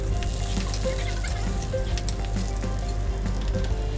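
Chopped onions sizzling steadily in hot oil with green chillies and curry leaves for instant sambhar, a continuous close frying hiss with faint bubbling and no voices.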